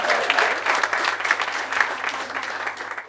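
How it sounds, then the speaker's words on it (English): An audience at a stand-up comedy show claps for comedian Preeti Das, steady full applause from a crowd that stays close and loud throughout and tapers slightly at the end. "પ્રીતિ દાસ માટે તાળી થઈ જાય"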